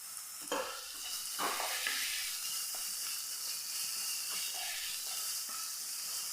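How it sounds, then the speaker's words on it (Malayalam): Onions sauté in a pan, giving a steady close sizzle and hiss with a few scraping stirs at intervals. No voice is heard. "നല്ല പോലെ ഒന്ന് വഴറ്റിയെടുക്കാം നമ്മുടെ ഉള്ളി നല്ല പോലെ ഒന്ന് സോഫ്റ്റായി കിട്ടണം"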